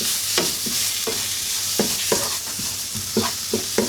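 Masala for a pigeon roast fries in a pan while a spoon stirs it, a continuous close sizzle broken by repeated sharp scraping strokes at an uneven rhythm.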